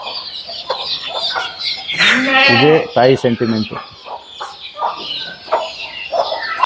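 A native country hen with her growing chicks clucks and calls close by in a series of sharp, varied bursts, with a louder squawking call in the middle, while someone talks over them.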